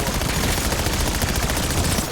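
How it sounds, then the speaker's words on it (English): Gunfire with a firework ammo mod in Black Ops 7 Zombies: a dense, unbroken stream of rapid loud crackling shots with no pauses. "So it makes like little mini fireworks that like spray above. The ammo mod."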